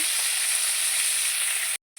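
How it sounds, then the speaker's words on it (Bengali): A katla fish head fries in oil with a dense, even close sizzle that holds steady, then cuts off abruptly into silence near the end. "এদিকেও মাছের মাথাটা ভেজে নিচ্ছি"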